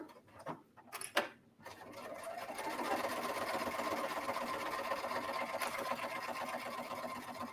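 A sewing machine runs steadily, stitching fabric for a book pocket, its motor a continuous close whir lasting several seconds after a few brief handling knocks at the start.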